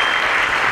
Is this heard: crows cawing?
no